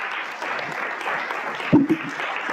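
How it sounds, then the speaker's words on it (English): An audience at an anthology book launch applauds the readers with steady, moderately loud clapping, broken near the end by a couple of close, heavy bumps against the microphone. "give a round of applause to the readers who just read"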